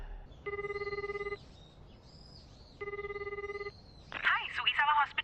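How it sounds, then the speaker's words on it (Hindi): A telephone rings in two clear electronic bursts separated by a short pause, followed by a brief burst of other sound. "इतादोरी अंकल, आपके लिए फोन है"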